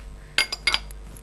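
A spoon stirs mayonnaise dip in a bowl, giving four quick metallic clinks in close succession followed by a faint tap.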